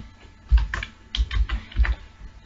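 Quick keystrokes on a computer keyboard, close and clear, in three short clustered bursts with no talking.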